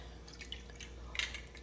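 Apple cider vinegar pours and drips into a pot of water for pickled watermelon rinds, a faint trickle with a few small splashes and drips in a quiet kitchen.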